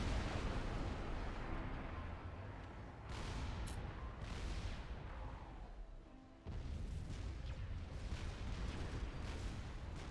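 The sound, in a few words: artillery firing in Supreme Commander video game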